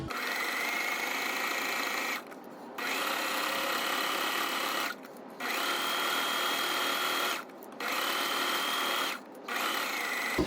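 Sewing machine stitching a tote bag seam with a half-inch allowance, its motor whirring in long steady runs separated by four brief stops, close and loud with no talking.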